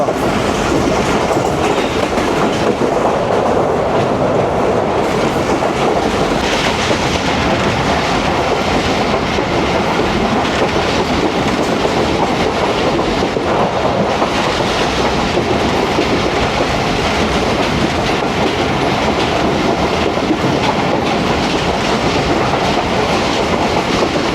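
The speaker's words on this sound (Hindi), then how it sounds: "Here comes 18 down Millat Express, that's 40 minutes late." The 18 Down Millat Express passenger train passes close by on the line, a loud, continuous rumble with rhythmic wheel clatter over the rails that runs the whole time, with no voices.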